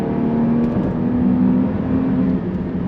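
A loud engine roars steadily as a Range Rover Sport accelerates hard, a sustained low drone rising slightly in pitch as it drops a gear, heard from inside the vehicle.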